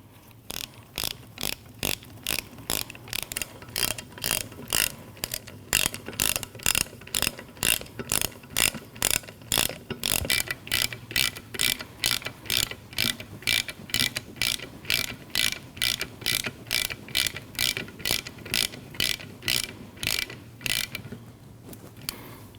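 A hand ratchet tightens the brake caliper slide pins on a Nissan NV2500 van, giving a long run of evenly spaced, loud metallic clicks in steady bursts, close up, with no talking.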